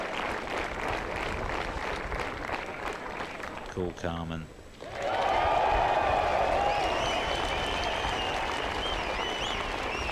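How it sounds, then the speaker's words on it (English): A golf gallery at a final round in 1995 breaks into loud sustained applause and cheering, first under a commentator's voice, then swelling into a dense roar of clapping and shouts. "you can really hear the public, the gallery is cheering him on"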